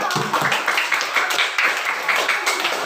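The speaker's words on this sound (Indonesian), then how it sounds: "Kita beri tepuk tangan untuk semua." Applause from a classroom of students after group presentations, a steady wash of many hands clapping throughout, moderately loud and close.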